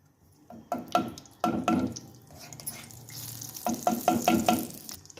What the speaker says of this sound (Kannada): 1 ಸ್ಪೂನು ತುಪ್ಪ ಹಾಕ್ತಾಯಿದ್ದೀನಿ.